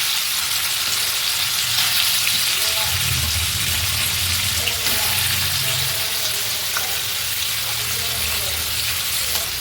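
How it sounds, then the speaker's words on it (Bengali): Paneer cubes dropped into hot oil sizzle and fry steadily in a pan at close range, a dense continuous crackle with faint clinks and movement over low hum, no talk. "দেখো তেলের মধ্যে আমি পনিরটা দিয়ে দিচ্ছি।"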